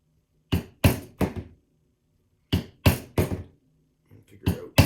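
Hammer blows drive a punch through leather for a gauntlet knuckle guard, sharp close strikes in two bursts of three with pauses between, then a lighter tap and more strikes.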